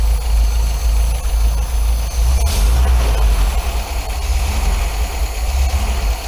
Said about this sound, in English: Alright, so now let's rev it up.